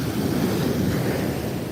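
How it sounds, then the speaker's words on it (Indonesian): Heavy ocean surf in stormy weather at Muaro Bayang beach roars steadily and loudly, a dense rushing wash of large breaking waves with wind buffeting the microphone. "Ini ombaknya besar nih."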